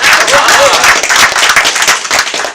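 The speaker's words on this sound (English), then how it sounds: "Give her a round of applause" A loud round of applause from attendees at a cannabis and hemp association meeting, close, dense clapping with crowd noise and a voice or two mixed in.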